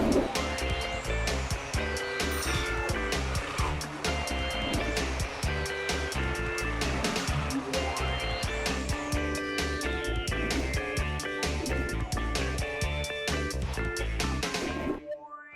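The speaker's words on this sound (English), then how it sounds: "now I'm going to cut it with a saber saw using a medium fine blade" A saber saw fitted with a medium fine blade cuts through heavy-duty plastic, a dense, rapid reciprocating buzz with rhythmic chattering strokes running steadily for most of the length before stopping abruptly near the end.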